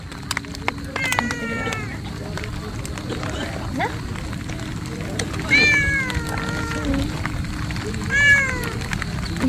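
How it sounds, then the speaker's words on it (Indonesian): Several cats meow repeatedly at a mountain campsite on Gunung Putri near Bandung, rising and falling cries at close range over outdoor background noise, with a person briefly speaking. "Di sini banyak kucing ya."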